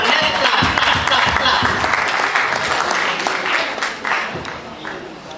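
Audience applause at a public program on air pollution, a broad steady wash of many hands clapping that continues for several seconds and tapers slightly toward the end, with a voice speaking over it.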